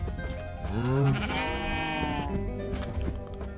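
Sheep in the Minecraft video game bleating, a single loud drawn-out bleat near the start followed by more wavering bleats against a busy game soundscape, no talking.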